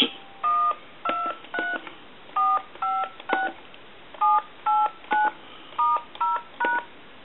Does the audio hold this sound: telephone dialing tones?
yes